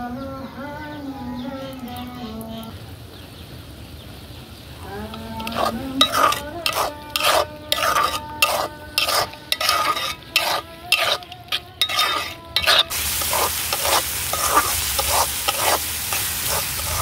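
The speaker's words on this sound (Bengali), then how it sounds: "এখন হচ্ছে শুধু ভাজা ভাজা করার অপেক্ষা। তো ভালোভাবে অনেকক্ষণ নাড়াচাড়া দিতে হবে।" Salted hilsa fish frying in a pan while a spatula stirs it, giving a steady sizzle and a run of rhythmic scraping strokes that build into continuous loud frying near the end, close by, with birds faintly in the background.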